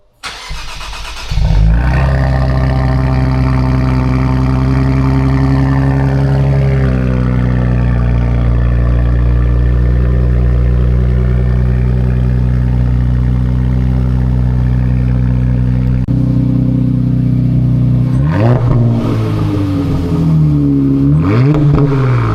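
A Nissan Z with new lower downpipes and a catback exhaust starts up and settles into a loud, deep, steady idle heard up close, then takes a few short revs near the end, with no talk.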